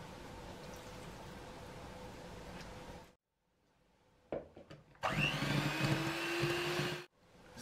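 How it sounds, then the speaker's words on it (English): An electric mixer beats egg and vanilla essence into margarine and sugar, running with a steady whirring drone, stopping briefly, then restarting louder with a rising motor whine before cutting out. "Beat the egg and the vanilla essence into the margarine and sugar."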